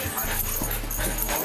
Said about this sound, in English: Who do you think you're barking at?